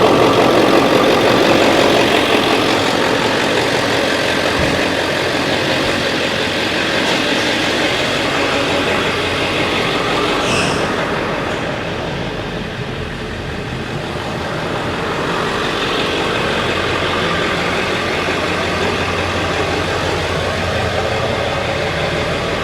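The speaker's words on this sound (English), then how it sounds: "Gotta love the sound of a diesel." A 2000 Ford F350 diesel engine idles steadily for a long stretch, a close, even rumble with a faint knocking texture and no voices.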